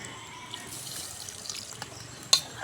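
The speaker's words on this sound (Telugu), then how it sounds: "ఇప్పుడైతే వాటర్ వేసుకుందాము" Water is poured into a pot of simmering chicken curry at an outdoor village cooking spot, giving a soft quiet trickle and splash with one sharper splash near the end.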